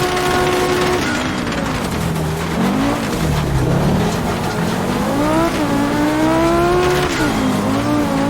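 A Group B Audi rally car revving hard through corners, its engine note rising and falling continuously with sharp throttle changes, loud and close as if heard from onboard, with some tyre scrabble underneath.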